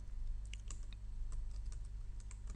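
Rapid clicking of computer keyboard keys in an irregular typing rhythm, close and fairly quiet, with steady low hum underneath and no talk.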